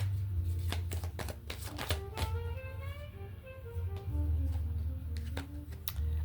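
Tarot cards riffled and snapped down one after another in quick dry clicks, with a soft shuffling run in the middle and more flicks toward the end.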